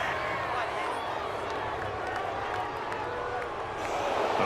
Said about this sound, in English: this crowd does not like that call. Understandable reaction from them.